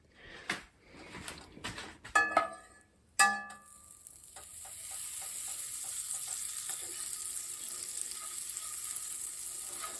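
Thick butter sizzles in a hot cast iron skillet. A few clatters and scrapes come first, then a steady, close frying hiss builds and holds to the end.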